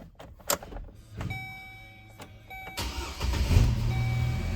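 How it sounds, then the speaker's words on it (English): A GM Atlas 4-cylinder car engine cranks briefly after a few clicks and a steady electronic tone, then fires and settles into a loud, steady idle nearby. "now when you go to start the car,"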